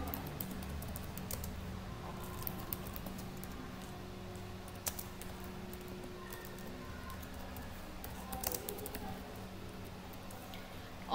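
Light typing on a computer keyboard, entering a title for a Google web story: soft, fairly continuous key taps close by over a faint background hum.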